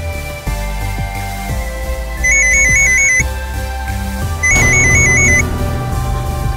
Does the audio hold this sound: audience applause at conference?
no